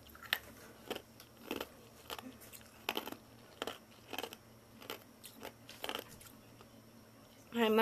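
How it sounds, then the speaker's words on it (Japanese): Someone crunches ice with their teeth, close to the microphone, making about a dozen sharp crunches in a loose, regular rhythm against a quiet room. A louder rustle comes at the very end. "氷ボリボリボリボリ"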